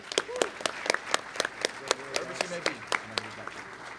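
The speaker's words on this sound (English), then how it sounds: "Round of applause to Morgan Lee" Sparse, crisp hand claps from a small group at a high school alumni banquet, sharp separate slaps in a loose rhythm, with talking voices murmuring beneath.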